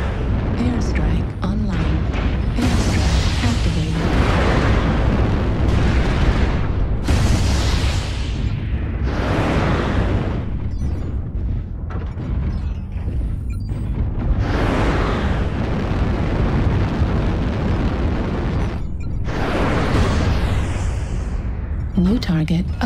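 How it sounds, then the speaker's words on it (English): Heavy airstrike explosions rumble continuously in MechWarrior Online during a Mad Cat quickplay match, with repeated deep booms and blasts mixed under game voice callouts and weapon fire. "Airstrike."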